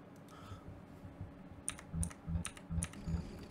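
Computer keyboard keys are pressed while playing BioShock, a run of separate clacks that clusters into quick bursts near the end, close and fairly crisp over a low background hum.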